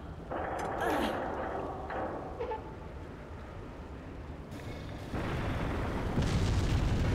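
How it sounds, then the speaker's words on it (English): A steady, roaring whoosh of burning gas venting in the underwater game Hydrophobia: Prophecy, loud and continuous with rumbling bursts, swelling louder near the end. "I get that it's like gas that's venting, but why is it on fire?"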